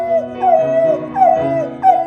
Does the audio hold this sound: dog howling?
yes